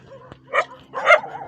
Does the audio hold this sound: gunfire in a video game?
no